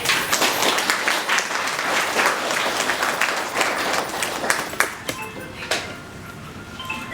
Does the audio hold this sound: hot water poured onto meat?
no